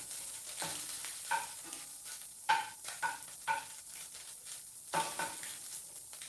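Spam and shrimp stir-fry in a stainless steel pan, a soft continuous sizzle broken by repeated scraping strokes and light metallic clinks of a utensil against the pan, fairly quiet and without talking.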